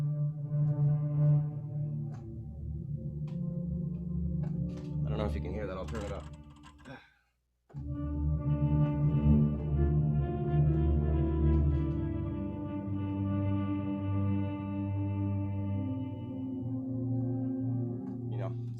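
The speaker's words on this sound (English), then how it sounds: "Crazy sounds like this cello that's all scratchy." Scratchy, harsh cello patch from a software instrument for a horror film, sustained grinding bowed tones that stop briefly and then resume, with a person speaking over it.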